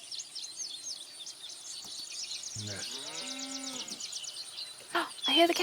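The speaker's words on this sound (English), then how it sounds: "Oh, I hear the cows." Cattle moo in the distance, one long drawn-out low call rising and falling, set against faint outdoor ambience and a brief bit of background noise near the end.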